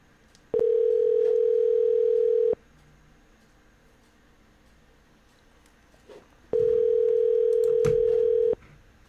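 Telephone dial tone on a phone line before a call back, sounding as two steady, loud tones of about two seconds each separated by a quiet gap, with no talk.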